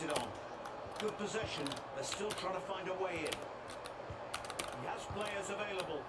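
Keys clatter in quick, irregular bursts on a computer keyboard during a football game session, close and fairly loud, with a voice talking over them now and then.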